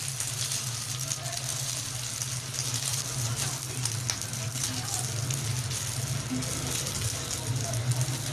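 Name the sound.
frying patty for shami anda burger in a pan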